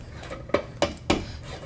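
Pounded yam dough made from yam flour is worked in a pot, giving three distinct, close, soft thumping knocks with faint scraping in between.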